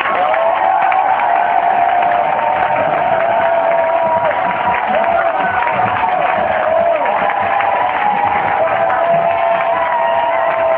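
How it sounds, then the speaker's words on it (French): A church congregation cheering and shouting in praise, a dense continuous roar of many voices that stays loud and steady throughout, with no individual speech standing out. "Et c'est ensemble qu'on va acclamer le Seigneur."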